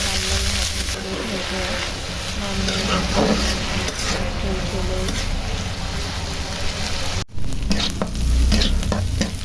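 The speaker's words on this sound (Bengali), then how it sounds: "পেঁয়াজ ভেজে তার ভিতরে চিচিঙ্গা" Snake gourd stir-fries with fried onions in a pan, a loud, steady close sizzle with scraping stirring strokes throughout, as a voice talks faintly underneath.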